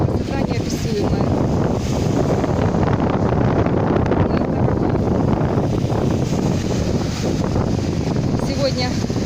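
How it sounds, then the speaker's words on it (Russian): Strong wind at a beach near Skadovsk blasts the microphone with a steady, loud roar, surf washing underneath throughout, and a voice speaks over it. "Ветер, конечно, сильный."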